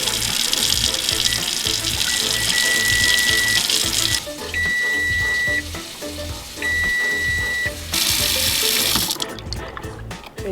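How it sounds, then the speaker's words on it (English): A tap fed from a well runs hard into a sink, a loud continuous splashing flow broken by a few brief pauses, with electronic beeping tones sounding over it. "we're going to turn our water on and let it run for 5 minutes"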